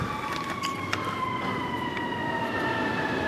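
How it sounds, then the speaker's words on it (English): Sirens wail steadily in the distance, their sustained tones running through the whole stretch over a constant background hum. "the sirens have been going non-stop all day"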